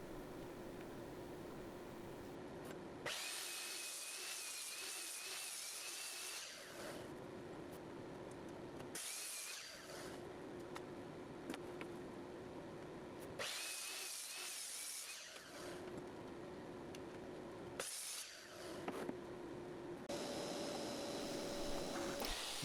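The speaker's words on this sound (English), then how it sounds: "straighten up the edges on the table saw" A table saw cuts wood to straighten the edges of boards for a portable workbench, with several loud whining passes through the timber between quieter stretches of the motor running.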